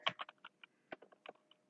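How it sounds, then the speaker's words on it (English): Computer keyboard keys tapped in short irregular bursts while an IP address is entered, close and fairly crisp, with brief pauses between clusters of keystrokes. "I have to type the IP addresses."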